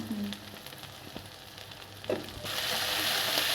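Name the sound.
sautéing fish curry with coriander, cumin, turmeric powder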